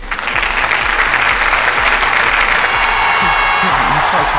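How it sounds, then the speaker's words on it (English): Recorded crowd applause played for an esports audience, loud, dense clapping sustained throughout at a steady level with no pause. "we'll play bigger and bigger applauses"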